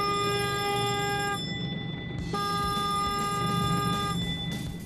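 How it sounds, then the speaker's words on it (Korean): An electronic alarm rings continuously in steady bursts with brief pauses on a red crab fishing boat, heard over a low rumbling engine and hull noise. "조업 준비를 알리는 알람 소리에 일사불란하게 움직이는 선원들"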